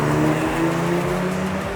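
A Honda Civic Type R, Toyota GR Corolla and Volkswagen Golf GTI launch together from a rolling start in a drag race, their engines droning loudly and continuously with overlapping tones that climb steadily as they accelerate.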